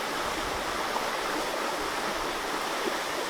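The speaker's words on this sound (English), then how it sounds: "We've set up a little camp here by the river." An Australian creek rushes past a riverside camp, a loud, constant, even wash of flowing water with no voices.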